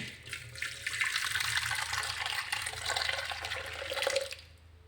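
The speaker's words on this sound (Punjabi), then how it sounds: "ਇਹਦੇ ਵਿੱਚ ਪਾਵਾਂਗੇ ਗਰਮ ਕੀਤਾ ਹੋਇਆ ਸੀ ਮੇਰਾ ਪਾਣੀ" Hot water with baking soda pours steadily into a burnt milk pot in a continuous rushing splash, close and fairly loud, then tapers off near the end.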